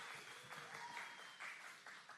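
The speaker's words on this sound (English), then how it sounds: "Applause, please." Faint applause from a conference audience at WalletCon 2024 in Bangkok, a steady wash of many hands clapping that continues without pause for a couple of seconds, with no voices over it.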